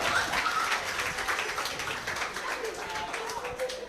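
Audience applause at a developer camp in Manila, a dense crackle of many hands clapping that holds steady for several seconds, mixed with crowd voices and chatter.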